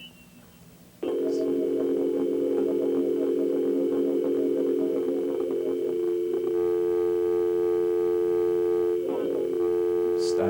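A telephone dial tone comes in abruptly after a second of quiet, a loud steady hum that holds for the rest of the clip with slight shifts in texture.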